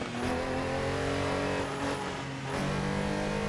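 A Lego Speed Champions Porsche race car from set 75888 in a VR racing simulator game, its engine droning steadily at high revs with a brief dip and rise as it shifts, close and continuous with no talk.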